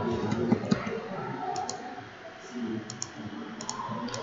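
Keys tapped on a computer keyboard during data entry in a web form, a few scattered clicks with short pauses between them, heard under steady low room noise.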